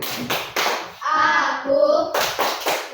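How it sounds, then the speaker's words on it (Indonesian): Children clap in the rhythmic 'tepuk konsentrasi' clapping game in a classroom, with sharp, evenly spaced bursts of claps between stretches of children chanting together. "Oke, mulai tepuk konsentrasi. Tepuk konsentrasi."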